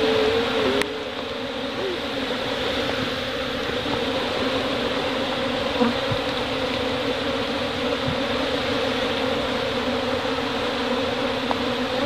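A dense, steady drone of a honey bee colony buzzing fills the air continuously, close and loud, with no pauses.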